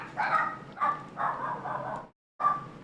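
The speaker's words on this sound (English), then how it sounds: "That'll let me know if I can keep on talking when the dog's barking" Several dogs keep up a steady run of yapping barks nearby, the bursts overlapping and stopping briefly before starting again, with no voice over them.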